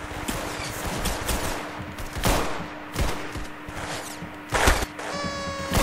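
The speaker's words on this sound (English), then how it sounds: "I hate this shotgun." Repeated gunfire from the Roblox Arsenal game, with loud sharp blasts in quick uneven succession over a constant electronic hum, and a rising chime near the end.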